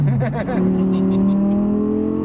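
An Audi R8 sports car engine revs hard, pitch sweeping up and down in quick pulses before holding a steady, loud roar.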